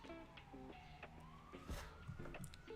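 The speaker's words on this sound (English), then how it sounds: "Hear those lovely sirens in the background." Emergency sirens wail in the distance, one rising and sweeping tone drawn out over several seconds, faint and layered behind other steady tonal sounds, with no talking.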